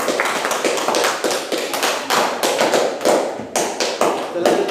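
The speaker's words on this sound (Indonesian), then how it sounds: "Bagus sekali kelompok 3, tepuk tangan" A classroom group claps for a student team after its presentation, a dense run of close hand claps that keeps going for several seconds without letting up.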